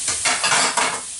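Half an onion, finely chopped, hitting melted butter in a pan for beef stroganoff gives a loud, close sizzle with brief stirring scrapes, no talking.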